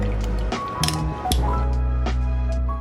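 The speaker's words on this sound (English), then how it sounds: "I will grind up some mint leaves with this mortar and pestle" A pestle grinds mint leaves in a mortar with a few soft squishy presses and light clinks, heard close over steady background music.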